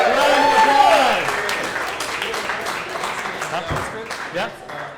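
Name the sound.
audience applause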